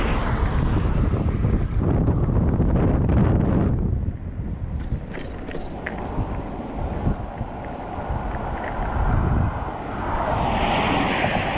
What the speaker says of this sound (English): Oh gosh, there's a lot of wind.